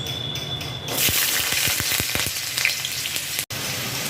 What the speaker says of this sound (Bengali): এবার তেলটা গরম হয়ে যাওয়াতে আমি এতে ছেড়ে দিচ্ছি আলুগুলো